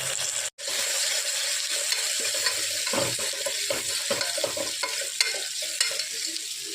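Onions fry lightly in a pan for a spicy tomato curry, making a loud, steady hiss with repeated scraping stirs. A brief drop near the start breaks the sizzle, and no one speaks.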